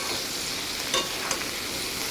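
Bitter gourd and potato frying in a pan for a vegetarian dish with jackfruit seeds and turmeric, a steady close sizzle with a few brief stirring scrapes, no talking.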